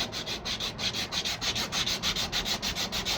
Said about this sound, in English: I'm just kind of going back and forth